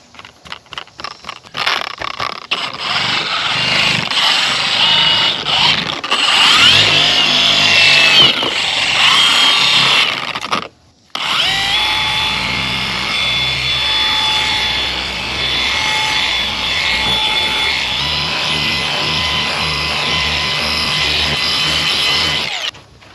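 A Harbor Freight polisher with a microfiber pad and compound works a BMW E70 X5 diesel, giving a loud, close, high whine that runs steadily. It cuts out briefly around the middle, then starts again and keeps going.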